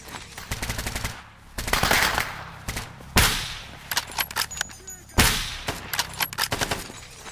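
Bursts of automatic gunfire in the video game Stalker GAMMA, rapid rattling volleys repeating in several clusters with sharper single shots between, fairly loud and close with no talk over them.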